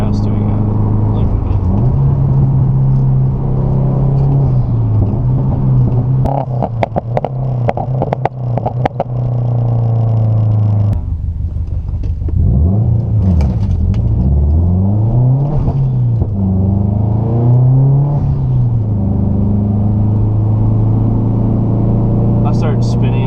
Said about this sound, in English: That's why you get a loud exhaust so you can't hear your rattles.